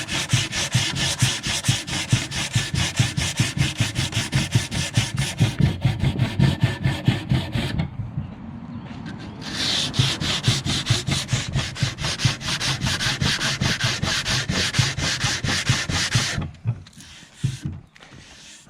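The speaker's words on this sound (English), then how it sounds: "I'm actually using my palm sander, just the disc" A palm sander with a sanding disc works over a vintage wooden side table, a close, rhythmic scrubbing buzz that pauses briefly midway, resumes, then cuts off near the end.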